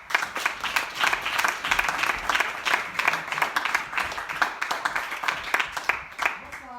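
Audience applause for a performer at an evening storytelling show, a dense, sustained round of clapping from a crowd, fairly close and loud throughout.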